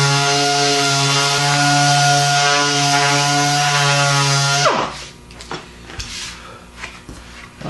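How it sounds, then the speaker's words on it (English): A power sander, an orbital sander working cabinet door panels, whines loud and steady with strong tonal hum, then spins down abruptly and leaves scattered scraping and handling noises. "take the orbital sander and then sand it off"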